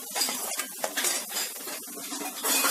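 Onions browning slowly over low heat in a pan while cooking matar paneer, with a spatula clattering and scraping against the metal in a busy, continuous run of close utensil knocks.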